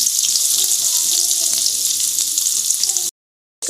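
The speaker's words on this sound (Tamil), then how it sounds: "கட் பண்ணி வச்சிருக்க வெங்காயத்தை சேர்த்திக்கலாம்" Chopped onions fry with mustard seeds, urad dal, fennel and chana dal in hot oil, a loud steady sizzle close by that cuts off abruptly near the end.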